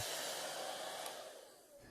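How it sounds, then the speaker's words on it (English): A hair dryer blows with a constant loud whooshing roar, close by, easing slightly toward the end. "we just chose to use a simple hair dryer"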